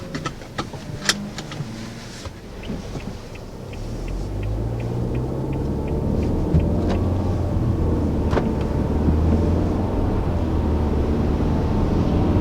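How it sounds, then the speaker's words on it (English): A 2019 Nissan Altima pulls away from rest, first a few interior clicks and taps, then a steady low engine and road rumble that builds and holds while driving, no voices. "Alright, so setting off in the 2019 Nissan Altima."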